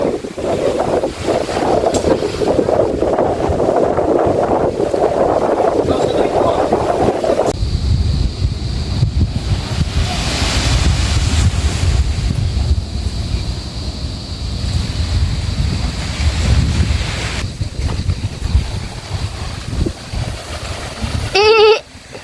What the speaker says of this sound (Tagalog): Napakalakas ng hangin na high tide.